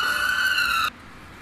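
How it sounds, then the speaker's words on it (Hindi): An ambulance siren wails steadily and loudly, close by, then cuts off abruptly after about a second, leaving quiet background noise with no speech. "एम्बुलेंस आ रही है।"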